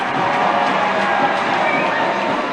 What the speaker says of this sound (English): There's some rapturous applause.